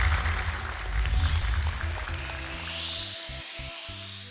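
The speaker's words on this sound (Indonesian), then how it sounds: "Boleh tepuk tangan untuk Mora dan juga Naufal." A studio audience at the Hafiz Indonesia 2025 Quran memorization competition applauds for two young contestants, starting as a broad wash of clapping before swelling music takes over and continues beneath it.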